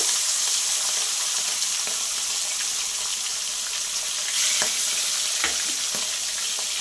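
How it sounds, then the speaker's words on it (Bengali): Boal fish heads frying in hot oil, a loud, dense, continuous sizzle with scattered sharp pops and crackles, no talk. "তেলটা গরম হয়ে গেছে, মাছগুলো ছাড়বো। দেখো ফার্স্ট টাইম মুড়ো দুটোই আগে ভেজে নেব।"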